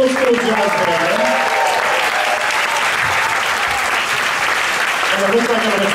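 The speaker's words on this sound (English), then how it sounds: "Can you please give me one more huge round of applause for Kyle Mustaine" Loud, continuous applause from a large audience at a high school honor band concert fills the whole stretch, with a voice faintly audible at the start and end.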